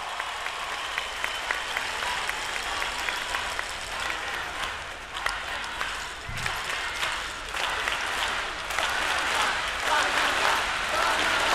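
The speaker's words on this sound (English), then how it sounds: "The crowd chanting Panama, Panama, getting excited for 2019." A large crowd at a papal meeting with volunteers and organizers in Poland applauds steadily, a dense sustained clapping roar with bursts of cheering throughout.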